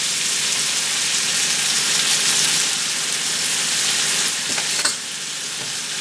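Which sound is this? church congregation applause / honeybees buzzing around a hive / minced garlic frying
minced garlic frying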